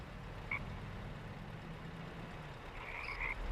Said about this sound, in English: You can hear some sounds. You hear the frogs.